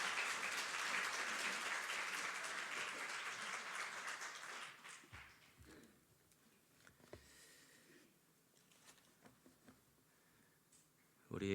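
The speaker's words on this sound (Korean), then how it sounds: "큰 함성과 박수로 환영합니다" A church congregation greeting a guest pastor with loud applause, dense clapping that fills the first few seconds and then thins out to scattered claps and quiet room noise.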